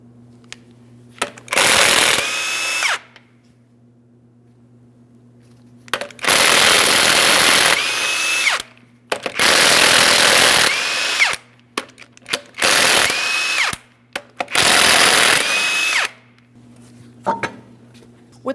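A power tool spins off the 21mm lug nuts of a Chrysler 300 front wheel in five loud bursts, each a whirring rattle ending in a rising whine, separated by short pauses with faint clinks.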